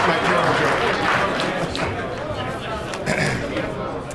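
Crowd at a Touchdown Club banquet in a hotel function room applauding the event organizers: loud, continuous clapping mixed with cheering and chatter, gradually easing.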